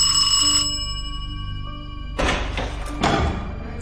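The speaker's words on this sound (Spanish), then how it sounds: "Sonaba el timbre de la puerta." A door chime sounds with a sustained tonal ring that fades, followed by two sharp thuds like knocks or a door being handled.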